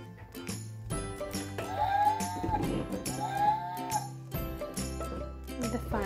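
A toy farm set plays a recorded cow mooing, two long drawn-out moos that stand out clearly over a faint jingling toy background.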